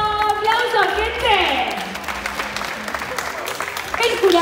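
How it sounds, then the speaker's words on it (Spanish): A crowd claps and cheers at a Spanish-language rap battle, with music and voices layered over the clapping as it swells and fades. "¡Aplauso, gente!"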